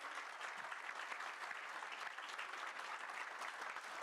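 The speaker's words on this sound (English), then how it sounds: "I think it deserves another round of applause" Sustained clapping from an audience at a product cover launch event, even and continuous for several seconds, heard from a distance at low level with no talking over it.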